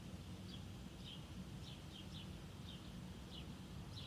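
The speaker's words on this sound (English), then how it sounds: "I'm outside, so I hear the sound of the wind, the sounds of the birds chirping." Faint, sparse bird chirps outdoors: short high calls repeat every second or so through steady wind noise, distant and soft throughout.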